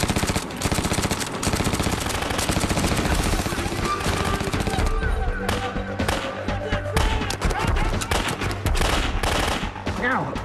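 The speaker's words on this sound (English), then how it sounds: "get into position, find out where the shot's coming from, and put down suppressive fire" A SAW light machine gun laying down suppressive fire, a loud, dense, sustained roar of rapid shots that runs without a break through the whole stretch, with echoes and other battlefield noise mixed in.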